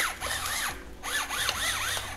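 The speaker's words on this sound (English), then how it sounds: "just type in Cuisine Art electric salt and pepper shaker" A Cuisinart electric salt and pepper grinder whirs in short, wavering bursts, with two runs of buzzing rotation separated by a brief pause, close and moderately quiet.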